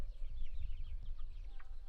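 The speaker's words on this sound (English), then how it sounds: "These are the chickens." Chickens about eight weeks old cluck and chirp softly in a flock, with scattered short calls over a low rumbling background, fairly distant and no clear talk.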